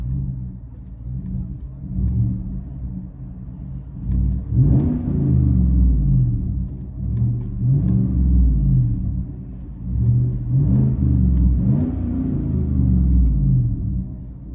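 From inside the cabin, a lifted 2015 Chevy Suburban LTZ with a 5.3L V8 and Dynomax Race Bullets dual exhaust rumbles deeply at idle. It swells through several throaty revs that rise and fall in repeated bursts.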